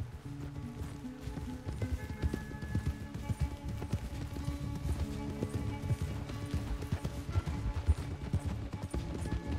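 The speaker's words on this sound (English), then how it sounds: "My horse versus that little horse." Horses galloping in a race in the video game Red Dead Redemption 2, a steady drumming of hoofbeats running close and continuous throughout.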